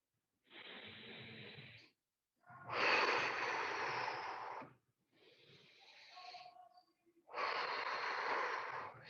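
Deep, forceful inhales and exhales during a breathing exercise paired with push and pull movements, four long loud breaths separated by short pauses, close to the listener.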